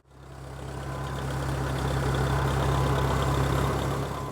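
A tractor idles on a trailer after loading, a steady low engine hum that swells in over the first second and then holds evenly close by, with no talk.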